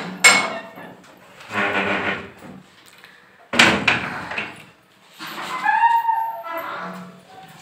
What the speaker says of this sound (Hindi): पहले दरवाज़ा बंद कर लूँ